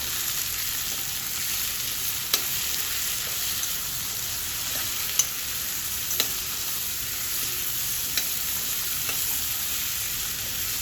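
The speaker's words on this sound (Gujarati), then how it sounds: "પાંચથી 7 મિનિટ સુધી તેને તેલમાં સાતળતા રહો કે જ્યાં સુધી તે થોડા નરમ ન થાય" Ivy gourd and potato sauté in hot oil with a steady, even sizzle and hiss, broken by a few faint clicks of stirring or spattering, close by and alone without talk.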